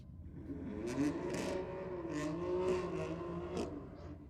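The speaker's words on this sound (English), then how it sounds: "Here comes this SUV Honda." A Honda SUV runs at a drag race, its engine a faint distant drone rising and wavering, with brief crackly bursts of noise overhead.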